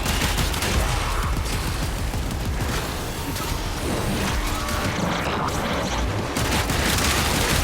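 An area-of-effect ability explosion in the video game Warframe: dense, loud rolling blasts and crackling bursts fill the whole stretch, overlapping with gunfire-like impacts, with no speech.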